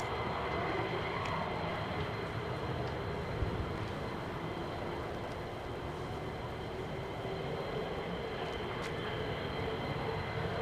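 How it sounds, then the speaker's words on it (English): A V-22 Osprey tiltrotor aircraft flies near a military air traffic area, its steady broadband rumble and whine holding at an even level for about ten seconds without speech. "V22 Osprey right there, folks."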